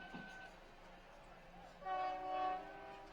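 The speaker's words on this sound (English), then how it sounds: "honk of the horn as it rolls on by, with the whistle blowing" A passing train sounds its horn during an outdoor soccer match, a sustained multi-tone blast that swells and holds in the distance over steady background noise.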